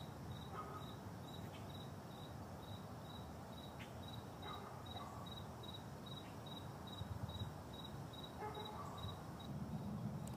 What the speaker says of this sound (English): Hear the crickets chirping.